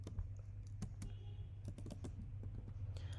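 Rapid, light keystrokes on a computer keyboard while code for a React submit input is typed, irregular clicks close up over a steady low hum.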